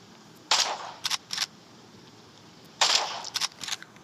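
Gunfire in a hunting video game as a deer is shot: a loud sharp report followed by a couple of quick cracks, then a second burst of similar shots after a short pause.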